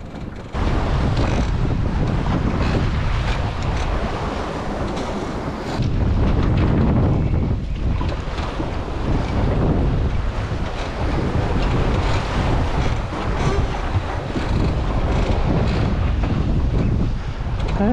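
Strong wind roars across the microphone over splashing waves as a small Welsford SCAMP dinghy sails steadily through the water near Bruny Island, with no talking.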